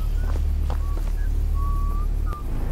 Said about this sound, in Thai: หูฟังทางขวานะครับจะมีเสียงแบบคนผิวปาก